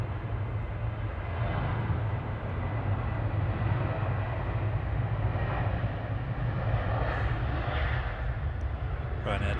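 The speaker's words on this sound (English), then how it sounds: "Ryanair departing in the background" A Ryanair airliner departs Manchester Airport, its engines a steady, loud broadband roar that holds constant throughout, with voices talking over it.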